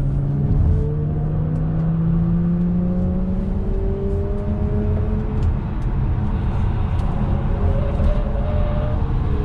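An electric Tesla Model 3 Performance races on a track, a loud sustained whine rising and falling in pitch over steady road and wind roar, close to the mic with no talk.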